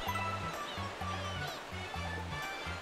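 Steady rushing waterfall in Super Mario Galaxy on the Wii, a constant broadband wash running throughout beneath a looping low game-music bass pattern.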